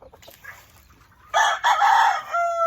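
A gamefowl rooster from farm breeding stock lets out a loud, close crow after a few soft clucks, with other birds faintly in the background.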